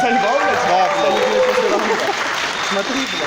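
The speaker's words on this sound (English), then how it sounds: "Now I'd like to hear one huge round of applause for all participants." A debate grand final audience applauds all participants, a dense wash of clapping with voices talking and calling out over it throughout.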